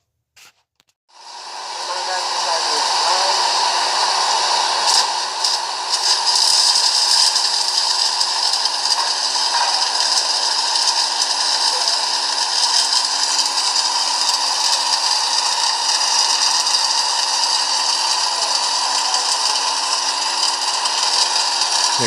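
Stick welding arc burning steadily for about twenty seconds, a loud continuous crackling hiss that starts abruptly after a brief tap and holds steady without pause.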